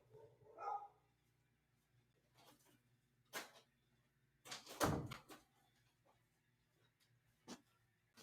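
A door is shut indoors with a couple of solid thunks and a louder slam near the middle, while dogs bark briefly in the background at the start.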